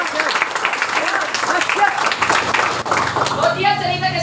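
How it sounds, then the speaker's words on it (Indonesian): A crowd claps at a sales presentation, steady applause running the whole time beneath a speaking voice. "Anda bilang dahsyat tepuk tangan"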